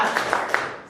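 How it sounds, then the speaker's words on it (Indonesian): Schoolchildren in an Indonesian classroom doing a rhythmic spirit clap, with three bright claps at even spacing over a soft wash of group noise, moderately loud and close. "Kita tepuk semangat."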